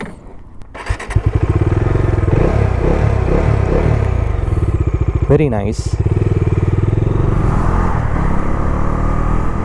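Bajaj Dominar 250 motorcycle being ridden, its engine droning steadily and loudly with a shift in pitch partway through, wind rumble behind it and a rider's brief spoken remark.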